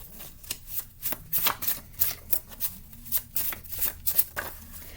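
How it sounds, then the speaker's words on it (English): A stack of handmade cards being shuffled: quick, crisp riffling bursts in an irregular rhythm, close and fairly loud, repeating throughout with short pauses between them. "I have a stack of cards that I made that I'm going to pull a bunch from to get some details"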